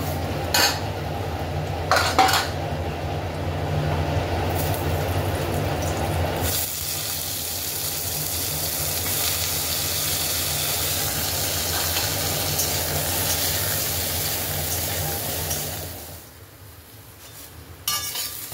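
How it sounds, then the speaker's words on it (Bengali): Brinjal (eggplant) pieces frying in oil in a wok, giving a steady hissing sizzle with a few utensil clinks near the start, a low hum beneath, and a fade toward the end. "এবার এর মধ্যে আমি তেলটার মধ্যে বেগুনগুলো ভেজে নেবো"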